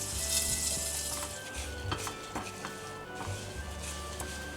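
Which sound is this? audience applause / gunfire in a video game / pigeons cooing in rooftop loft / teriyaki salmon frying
teriyaki salmon frying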